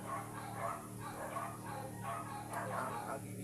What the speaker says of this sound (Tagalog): Ang ingay ng mga aso parang mga hayop.